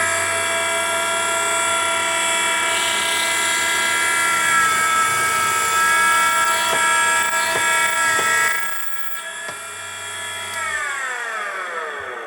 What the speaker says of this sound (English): tighten up the handle, start the machine.